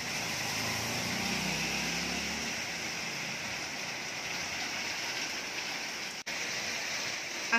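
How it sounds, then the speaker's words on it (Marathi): Heavy rain pours down steadily in Kolhapur, a loud, continuous hiss with no break, close and dense throughout. "आवाजावरून तुमच्या लक्षात आलं असेल की किती जोराचा पाऊस सुरू आहे कोल्हापूरला"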